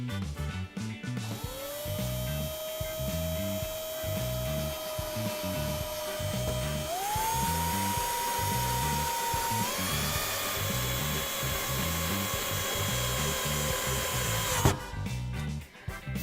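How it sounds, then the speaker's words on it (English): Power drill driving wood screws through a metal colander into a wooden spindle, a loud, close motor whine that rises in pitch in steps over grinding, rhythmic thumps, then stops abruptly near the end. "drive 3 or 4 wood screws through the holes of the colander and into the wood spindle."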